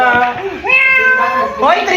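A person imitates a cat's meow with a voice, giving a few drawn-out, wavering mewing calls over about two seconds, loud and close.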